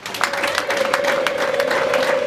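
Wedding guests in Musanze, Rwanda, clap in a brisk rhythmic beat while a sustained high ululation rings over the crowd, lively and fairly loud throughout.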